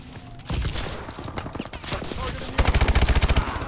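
Rapid automatic gunfire from a fast-firing gun in Call of Duty Advanced Warfare, loud close bursts with a steady machine-gun rhythm in the final second, after scattered shots and game effects.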